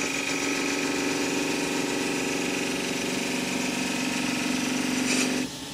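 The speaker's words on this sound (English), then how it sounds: "Just use the spindle gouge just to get in there and get" A spindle gouge takes a finishing cut on the rim of a small ash wood box lid spinning on a lathe. The motor hum and steady cutting hiss run without a break, then drop away sharply just before the end.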